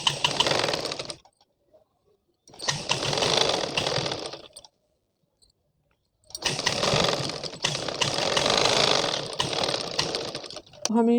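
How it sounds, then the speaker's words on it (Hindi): A sewing machine stitches along the sleeve of a blouse in bursts, running for about a second, then for about two seconds, then steadily for the last five seconds, with silent pauses between the runs. "इधरली साइड में सिलाई लगा लेंगे"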